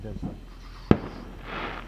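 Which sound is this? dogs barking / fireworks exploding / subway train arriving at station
fireworks exploding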